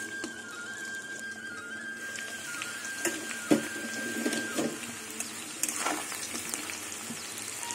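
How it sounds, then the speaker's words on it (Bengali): Pieces of taro (gati kochu) fry in plenty of oil in a covered pan, giving a steady, close sizzle with occasional louder crackles and stirring scrapes, and no voices. "এবার আমি ঢেকে ঢেকে গাটি কচুটা ভেজে নেবো লাল লাল করে"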